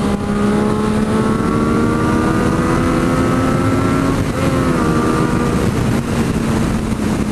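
A loud Yamaha FZ-09 / MT-09 motorcycle engine hums at steady speed in standard mode, its pitch gliding slightly up and down, with constant strong wind rushing over the microphone throughout.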